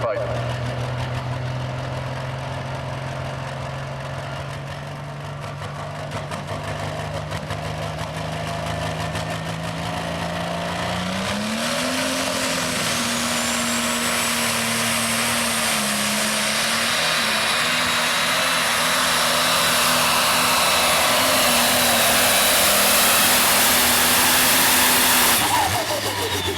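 A John Deere tractor-pull truck roars at a Boonsboro truck and tractor pull, a loud, sustained engine drone whose pitch climbs and holds high under the load, with a crowd and announcer faintly in the background.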